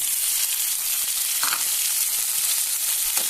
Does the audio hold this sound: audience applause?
no